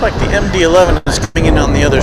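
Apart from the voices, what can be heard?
No everyday noise stands out behind the speech.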